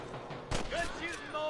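Gunfire cracks in the video game Red Dead Redemption during a camp shootout, a sharp shot mid-clip among continuous battle noise, with a voice calling out over it.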